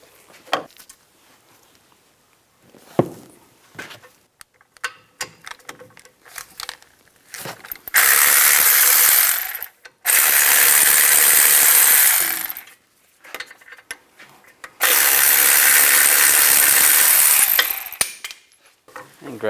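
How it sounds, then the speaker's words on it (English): A tool fitted with an 18mm socket removes the rear brake caliper bracket bolts on a 2010-2016 Cadillac SRX, first with scattered clicks and clanks, then with three long, loud, harsh mechanical bursts heard close up. "Using an 18mm socket, take off the bracket bolts."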